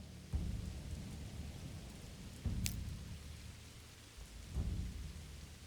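Rain and thunder in a video game battle, steady rain hiss under several low thunder rumbles, one with a sharp crack, moderately loud and with no voices.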